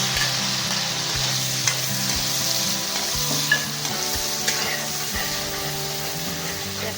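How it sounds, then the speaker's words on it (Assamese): Chopped onions sizzle and crackle in oil already used for frying fish, a steady close frying hiss with occasional stirring clinks and pops, no voices. "মই এইখিনি মাছ ভজা তেলতে মই কাটি থৈছিলোঁ এইখিনি পিঁয়াজখিনি দি দিম"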